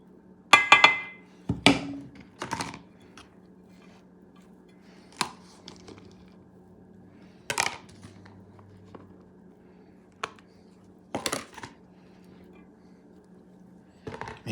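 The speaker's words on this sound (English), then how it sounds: "I'm going to mix everything together." Spoon clinking and scraping against a pot while duck rice ingredients with sausage are mixed together, a series of sharp, separate taps and knocks with quiet pauses between, close and clear, over a faint steady hum.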